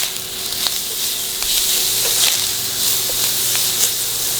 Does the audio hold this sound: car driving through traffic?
no